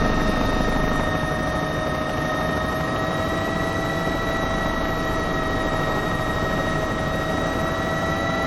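Bell 206 helicopter in the X-Plane flight simulator: a constant, loud turbine whine with steady tonal hum and rotor roar, unchanging and close throughout.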